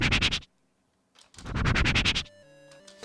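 Wind-movement blip effects are shaped by a sweeping resonant low pass filter, with two bursts of noisy, scratchy whooshing split by a short silence, then a faint tonal tail, close and alone.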